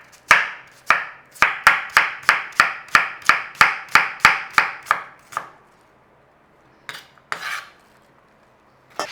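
Knife slicing onions on a board, a steady run of about fifteen crisp, evenly spaced cuts close up, then silence broken by a couple of softer board knocks.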